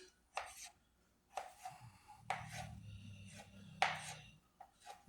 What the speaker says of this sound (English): I'll take the little knife again, flip the avocados upside down, cut them in slices.